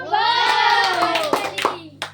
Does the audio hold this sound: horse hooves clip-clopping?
no